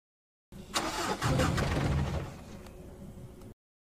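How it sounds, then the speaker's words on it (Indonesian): A car engine cranks over and catches, then settles into a steady idle, fairly loud and close with no voices. "Hari pun segera buru-buru menghidupkan mesin mobil dan pergi dari tempat tersebut"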